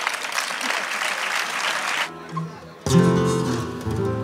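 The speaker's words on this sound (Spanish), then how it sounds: "Un aplauso grande para ellos" Audience at an open-air flamenco evening in a town square applauds the performers, a dense burst of clapping that cuts off, followed by a short lull and then music or voices from the stage.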